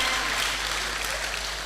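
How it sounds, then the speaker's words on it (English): A university lecture audience applauds in a short, dense burst, steady and fairly loud. "Another round of applause, please."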